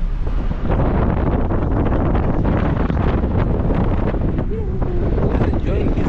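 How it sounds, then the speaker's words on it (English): Steady wind buffeting the microphone in a constant low roar outdoors in Cape Town, with a brief faint voice partway through. "Today the weather is calm, little bit windy, but not that much windy."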